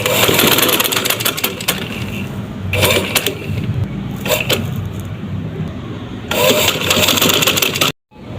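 A sewing machine stitches dori piping onto a fabric corner in loud motorized bursts, whirring in short runs with pauses between before stopping abruptly.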